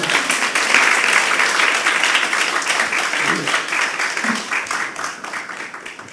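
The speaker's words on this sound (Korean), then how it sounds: "할렐루야로 환영하면서 박수하겠습니다" Church congregation applauding at a Sunday evening service in Korea, a steady sustained round of clapping that fills the room and slowly tapers toward the end.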